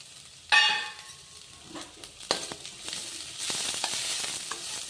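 Chopped onion drops into hot oil with frying ginger and garlic for cabbage Manchurian, giving a sharp clink of utensil on the pan and then a rising sizzle that spreads into steady frying, close and without talk.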